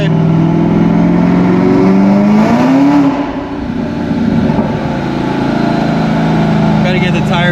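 A 2020 Camaro ZL1 fitted with an 800hp package revs on a dyno, its loud engine note rising and falling through a pull with a brief dip midway, while people talk over it.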